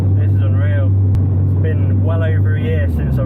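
A K-swapped Honda Civic drives with a steady, loud low engine drone and road rumble throughout, while a person talks over it.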